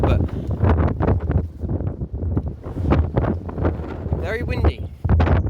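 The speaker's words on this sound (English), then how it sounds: "very windy." Strong gusting wind buffets the microphone in heavy, uneven bursts of low rumble, loud and close throughout.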